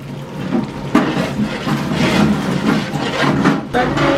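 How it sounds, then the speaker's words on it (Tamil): Water pouring steadily into a large pot of Ambur chicken biryani, a continuous splashing gush with small bursts, close by and with no talking. "அடுத்தது தண்ணி ஊற்றிக்கிறேங்க."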